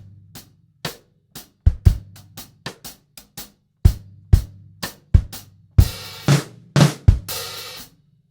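A drum kit plays a Grade 4 arrangement, building from mezzo forte to forte over a bar, with sharp drum strokes in steady rhythm swelling louder and ending in crashing cymbals.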